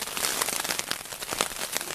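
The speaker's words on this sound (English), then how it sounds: "It's raining." Rain falling on a silnylon Superfly tent fly while camping, a dense, close pattering of drops drumming steadily across the fabric.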